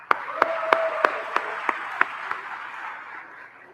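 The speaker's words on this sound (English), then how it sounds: "So one more round of applause, please." An audience at a rocketry conference's opening ceremony applauds, a steady wash of clapping with sharp, regularly spaced claps on top that fades out after about three seconds.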